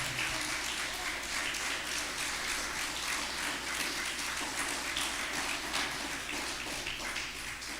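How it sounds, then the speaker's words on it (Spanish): A church congregation claps loudly for the Lord, a dense, sustained patter of many hands that stays steady and strong throughout, with no voices over it. "Démosle una fuerte ofrenda de palmas al Señor"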